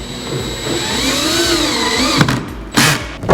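A drill fitted with a long 6-inch bit drives pocket screws into a NorthPoint three-drawer base cabinet: a steady motor whine for about two seconds, then short louder bursts as the screw seats.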